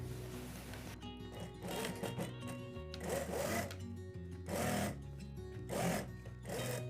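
A sewing machine runs in repeated short bursts, stitching trouser pieces together. Each whirring run lasts about a second with brief pauses in between, close and fairly quiet.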